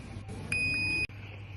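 A single steady electronic tone from the buzzer of a small automatic door control circuit project sounds for about half a second, clear against a faint background hum, then cuts off abruptly.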